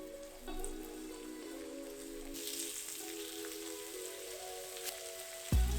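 A big heap of cabbage goes into a small frying pan of spices and fries with a soft, even sizzle over a low hum, ending in a sudden clatter.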